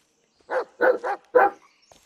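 A dog barks in the Blair Witch video game, four short gruff woofs in quick succession, close and clear against silence, the second pair nearly run together.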